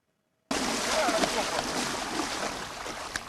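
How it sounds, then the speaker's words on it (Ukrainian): Cold water is poured over a person outdoors, a sudden loud rushing splash that starts abruptly and keeps sloshing steadily for a few seconds, close by, with faint voices in the background. "а от більш досвідчені переходять до обливань холодною водою"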